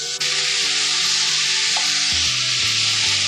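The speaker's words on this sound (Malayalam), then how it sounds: "നമുക്ക് കേബേജ് ഇതിലേക്ക് ഇട്ട് കൊടുക്കാം ഒരു അഞ്ച് മിനിറ്റ് നന്നായി ഇളക്കി" Shredded cabbage sizzles and fries in a pan with mustard seeds for a Kerala-style cabbage upperi, a steady close crackle with scraping stirs partway through.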